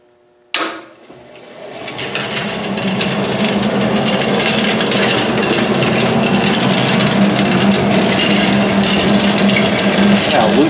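A chain-and-sprocket-driven auger on an Axeman Anderson AA130 anthracite coal boiler starts abruptly with a clunk, then runs as a loud, continuous mechanical grinding rattle with steady motor hum, close up and without talk.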